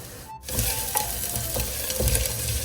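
Fresh ginger-garlic paste hits hot oil with onions, bursting into a loud, close sizzle after a brief pause, with a few spoon scrapes and stirs through the steady frying.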